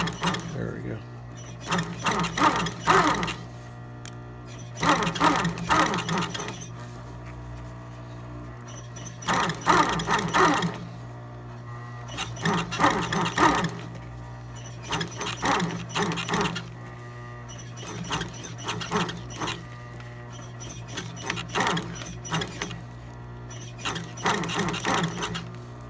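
Industrial sewing machine stitching new piping onto a Louis Vuitton Retiro PM leather bag, running in repeated bursts of rapid stitching over a steady low motor hum, with pauses between runs and a voice talking at times.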